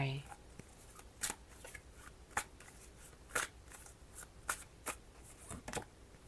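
A deck of tarot cards is shuffled close by in a series of short, crisp riffling bursts, roughly one per second, against a quiet background.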